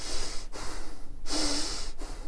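Close breathing sounds during a guided visualization: a couple of slow audible breaths, an inhale and exhale with brief pauses between, quiet and alone with no talk.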